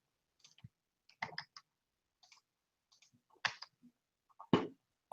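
Light, irregular clicks of typing on a computer keyboard, a handful of short, quiet keystrokes scattered in small bursts with pauses between, close by and without speech.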